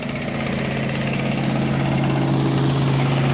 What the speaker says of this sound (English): While the men drill holes.